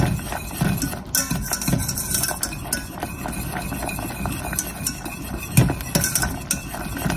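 A cooked chocolate frosting mixture is whisked in a bowl, a continuous close rattle of wire against the bowl with occasional louder knocks, steady and busy throughout.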